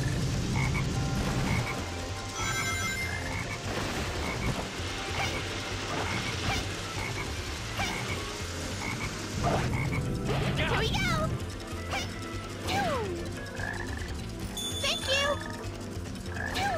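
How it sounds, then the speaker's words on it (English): Frog croaking in Sonic Heroes, repeated loud croaks over dense game music and effects, with character voices calling out in the mix. "there's a frog over there!"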